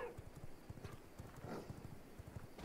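Horse galloping in the V Rising video game, a quick regular clip-clop of hooves with faint background ambience, quiet and steady throughout with no talk over it.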